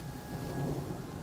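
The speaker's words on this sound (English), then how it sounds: "Rain in the mountains." Steady rain with low thunder rumbling through a mountain setting in Oblivion Remastered, the video game, a continuous moderate wash of storm noise holding evenly across the moment.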